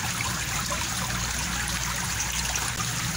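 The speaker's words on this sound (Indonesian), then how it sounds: "Pertama-tama kalau terisi air kita buang dulu airnya ya" Water is tipped out of a tray used for raising tubifex worms, making a steady, continuous splashing stream that holds at an even level throughout, with no voices.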